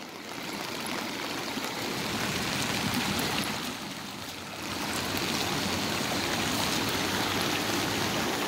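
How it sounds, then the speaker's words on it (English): A steady, full rush of flowing water after heavy downpours, loud and continuous like a stream or cascade, dipping slightly in the middle before surging back. "Damn, that's a lot of water. Look at all that water."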